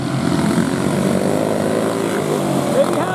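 A senior racing kart's engine drones loudly and steadily as it bogs down from fuel starvation during a heat, the raspy note holding without clearing, with commentary heard over it.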